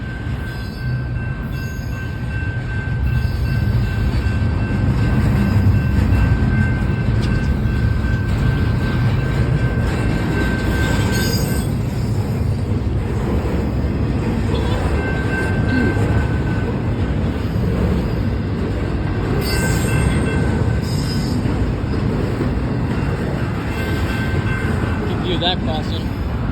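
A freight train rolls past a crossing near midnight in Fosterville, Tennessee, a steady loud rumble and clatter of cars lasting throughout, with a faint steady tone and a voice speaking occasionally over it.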